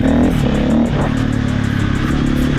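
A 2018 Husqvarna 350 FE SM supermoto revs loudly and close up, its engine note rising and falling steadily with throttle blips and no voices over it.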